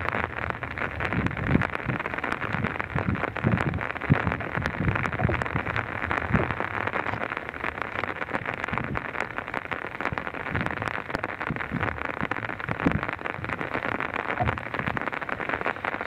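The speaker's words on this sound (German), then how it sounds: "Leider hat jetzt wieder Regen eingesetzt" Steady rain patters on an umbrella held in an open field during a thunderstorm, a dense, continuous crackle of close drops with occasional louder taps and light wind buffeting the microphone.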